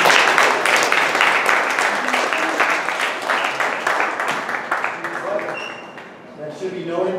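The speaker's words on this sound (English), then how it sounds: "Give a round of applause for everyone that does show up to a press conference." An audience at an amateur MMA press conference aboard a boat applauds steadily throughout, dense clapping that thins near the end, with crowd voices and a few tonal sounds mixed in.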